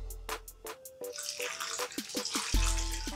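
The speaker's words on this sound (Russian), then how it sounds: "И заливаем это все водой." Water running from a tap into a pot of chopped broccoli, celery and leek, a steady close splashing stream that starts and stops with brief drips and clinks of handling.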